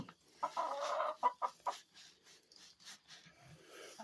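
Hens cluck inside a coop in a busy, overlapping chatter of short calls, close by and moderately loud, with no one speaking.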